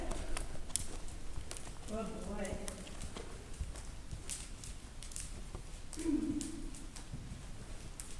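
A lively horse walks forward in an arena with irregular hoof clip-clops and light shuffling, fairly quiet, while a rider talks briefly over it.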